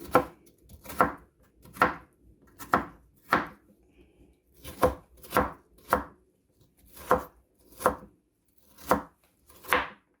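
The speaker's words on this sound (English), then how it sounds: "Alright, so we got that all chopped up." Knife chopping ingredients on a board for oyster stew: crisp, even strokes, roughly a dozen in loose groups of two or three, close and clear with no talk.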